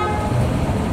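A PIAA Superior Bass horn fitted to a Yamaha Nmax scooter blares in one continuous, loud, close blast lasting about a second, steady and not shrill.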